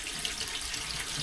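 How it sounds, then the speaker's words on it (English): Cold water runs steadily from a tap to rinse developing chemicals off Agfa Vista 200 film, a continuous close hiss with no talk. "What I'm going to do is I'm going to try and bring just a good flow of cold water"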